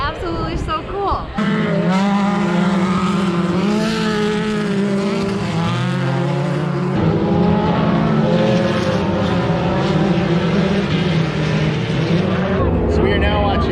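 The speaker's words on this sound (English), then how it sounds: "So we are now watching pro stock side by side." Pro stock drag race cars launch side by side at a drag strip on a sunny day, a loud sustained roar of high-revving engines building after a brief quieter moment, with a voice talking over it.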